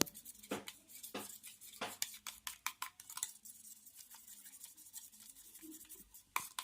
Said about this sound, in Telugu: మనం బాగా మిక్స్ చేసుకోవాలి ఫ్రెండ్స్ ఎగ్స్ అన్నిటిని మంచిగా